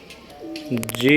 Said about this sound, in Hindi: सलारा टेडी कबूतर है जी किसी का